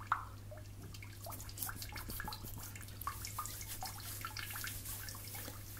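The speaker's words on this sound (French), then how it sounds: "mets ta tête un peu en arrière que je puisse te laver les cheveux" Water drips and trickles softly while hair is washed at a bath. The small, close drips fall irregularly over a steady low hum.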